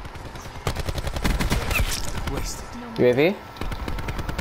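Rapid rifle gunfire from the shooter game Black Ops 4 crackles in quick bursts throughout, with a player talking briefly over the shots.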